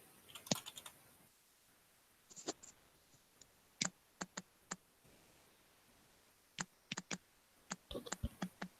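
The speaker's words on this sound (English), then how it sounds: "my fingers are having problems right now because I am like tripping while typing" Keys on a computer keyboard are tapped close by in short, uneven bursts separated by pauses, the clicks soft and crisp with no talking.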